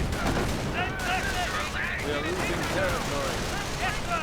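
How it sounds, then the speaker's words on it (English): Aircraft strafing runs in a WWII strategy game rattle out bursts of machine-gun fire mixed with scattered explosions and battle noise, with a commentator talking over the action. "Another strafing run."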